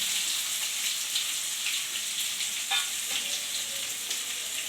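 Onions, curry leaves and mustard seeds fry in oil in a pan for tomato chutney, a continuous close sizzle with a few faint scrapes of stirring, steady and fairly loud.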